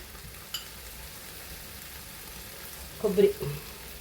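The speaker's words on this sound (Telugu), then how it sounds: "అది ఇందులోనే ఫ్రై చేస్తా అవి పోతాయండి" Okra (bendakaya) frying in a pan for a Kerala-style stir-fry, a low, steady sizzle with a light tap early on and a brief burst of stirring or clatter near the end, quiet and close.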